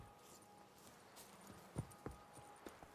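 Roach the horse's hooves clip-clop in The Witcher 3, a few faint, evenly spaced hoof strikes in the latter half over a low, steady background.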